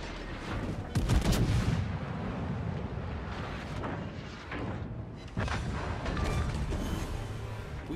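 Heavy battleship gunfire from the Thunderer in World of Warships: a series of deep, loud booming salvos with rumbling naval combat noise between them, no talking.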